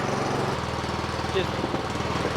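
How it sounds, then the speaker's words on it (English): A Troy-Bilt Storm 2840 snow blower runs with its augers engaged, a loud, steady mechanical engine drone with a low rumble that fills the whole stretch without pause. "Okay, so the augers are running now"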